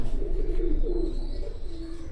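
Teddy pigeons in a loft give low, rolling coos at close range, a steady murmur of overlapping calls with a faint background hum.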